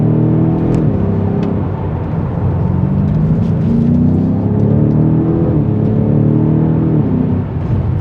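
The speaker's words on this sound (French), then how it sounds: "Une BMW M5 F90 dans sa version compétition." A BMW M5 Competition F90 sedan's engine drones at a steady cruise with a deep continuous hum, heard from close by with slight shifts in pitch and no pauses.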